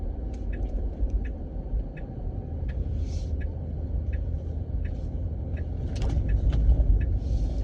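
Road traffic rumbling past a gym parking lot early in the morning, a steady low drone of cars with scattered faint ticks and clicks, no voices.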